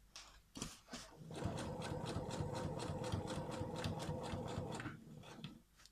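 A sewing machine stitches a cushion cover with an edge-to-edge zip, running in one steady, rapid, close-up burst after a few brief handling sounds, with no talking.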